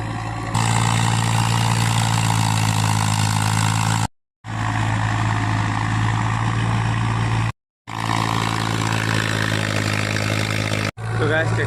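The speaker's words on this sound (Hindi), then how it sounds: "तो गैस ट्रैक्टर तो लगा दिया अभी" Tractor engine running steadily while ploughing a farm field, a loud continuous mid-pitched drone with a constant tone, briefly cut out twice.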